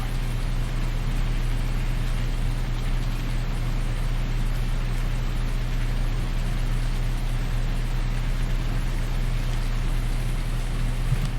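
Steady, even patter of rain falling in the Farming Simulator 19 game, a continuous hiss with a low hum underneath, unbroken and moderately loud with no talk.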